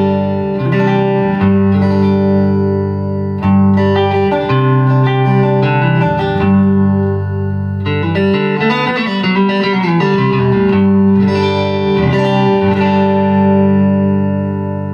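An electric guitar, a Fender Custom Shop '63 Telecaster, rings out through a Carr Super Bee 1x10 tube combo amp, sustained chords and single notes blending with reverb, loud and continuous without any talking.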